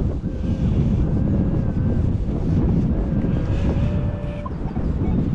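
Wind buffets a microphone in an open field during metal detecting, producing a continuous loud low rumble with gusty swells and faint tonal beeps underneath.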